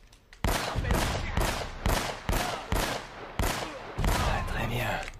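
Gunfire in the Uncharted video game, a run of heavy, close shots at an irregular pace of roughly one every half second, with voices faintly beneath them.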